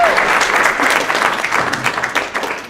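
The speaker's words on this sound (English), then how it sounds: "So let's give a round of applause for Emily." An audience at a luau music recital claps in a steady, dense round of applause that holds at full strength throughout, without pause or voices on top.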